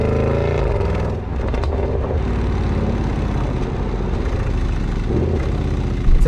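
Jaguar F-Pace SVR 1988 Le Mans Edition accelerating hard, a loud, sustained engine roar that holds steady throughout with no voices.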